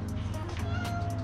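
A voice imitates a cat's meow, one short drawn-out mew over a steady, low engine hum from a Pontiac G8 GT with a Cam Motion Titan 2 camshaft.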